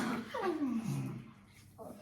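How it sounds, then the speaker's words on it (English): Two pet dogs whimper and whine in a home sewing room at night, with a long falling whine near the start and softer whimpers after it, close and moderately loud. "Can you hear my two dogs?"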